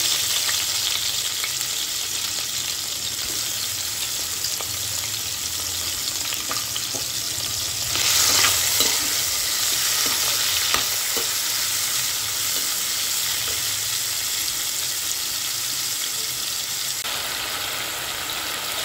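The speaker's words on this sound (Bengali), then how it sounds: "এবার ওই তেলেই আমি আগে থেকে একটু হলুদ আর নুন মাখানো চিংড়ি মাছটা ভেজে নিচ্ছি।" Prawns coated in turmeric and salt fry in hot oil with a steady, close sizzle and crackle, swelling briefly louder partway through, and no talking.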